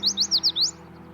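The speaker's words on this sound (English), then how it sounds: "then odds are pretty good that this little yellow warbler isn't too far off" Yellow warbler song up close and clear: a quick series of five bright, sweet whistled notes, the last slurred upward, then quiet.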